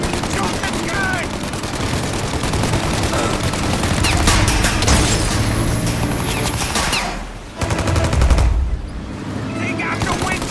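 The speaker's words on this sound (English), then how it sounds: "Shoot out their gun when there's a break in the fire!" Sustained automatic gunfire in a Mafia game shootout, dense rattling bursts with booming hits and a brief lull, loud throughout, with shouting voices mixed in.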